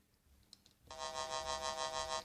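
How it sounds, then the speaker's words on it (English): Korg DSN-12 synthesizer playing a triangle wave at lowered frequency, a wobbly tone that starts abruptly after a near-silent moment and pulses in a steady rhythmic throb, loud and alone. "this wobbly bass sound"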